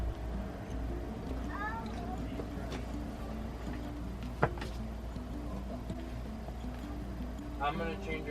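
A household cat gives a couple of short meows, the first partway through and another near the end, over a steady background rumble.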